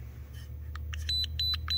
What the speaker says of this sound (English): there's the alarm that's kicked in